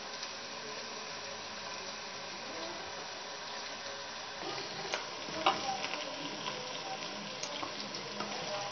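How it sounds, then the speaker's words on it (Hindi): Okra (bhindi) fries in a pan for restaurant-style masala bhindi, giving a continuous hissing sizzle that grows busier partway through, with occasional stirring clatters. "काफ़ी हद तक हमारी भिंडियाँ जो हैं फ्राई हो चुकी हैं।"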